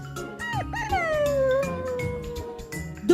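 A pit bull in a children's story setting whimpers and whines in high, sliding cries that rise and fall over a few seconds, close and fairly loud.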